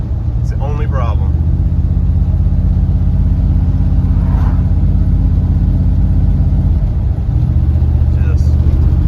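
A Dodge D150 truck engine with a throttle-crack problem, loud steady idle rumble with a sharp rev surge near the start and harmonics that shift later, as a voice talks faintly over it.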